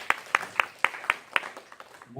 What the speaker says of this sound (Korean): 박수 한번 좀 주실까요?